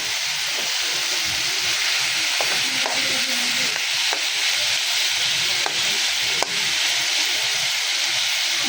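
Vegetables frying on a gas stove while khichuri is being cooked, a steady loud close hiss with faint stirring scrapes and a few light knocks.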